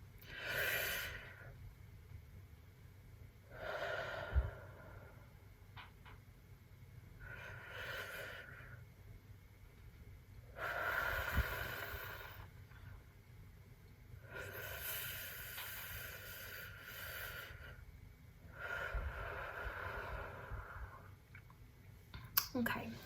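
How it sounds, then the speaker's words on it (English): Slow, deep breaths drawn in and let out during a guided breathing exercise, several long airy inhales and exhales spaced a few seconds apart, close and soft, with occasional light clicks between them. "So we'll breathe in like we're sucking up spaghetti. And then breathe out for 5 seconds."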